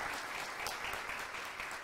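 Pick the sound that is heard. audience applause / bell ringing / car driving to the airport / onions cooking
audience applause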